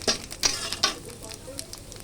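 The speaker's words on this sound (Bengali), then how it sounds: "সাদা জিরা রাঁধুনি তেজপাতা লঙ্কা ফোড়ন দিয়ে রান্না।" Whole cumin, radhuni, bay leaf and chili sizzle in hot oil with a soft, steady crackle close by, and a few sharper pops stand out over the quiet hiss.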